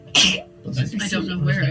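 A single sharp human sneeze bursts out loudly and close at the start, and a voice talks right after it.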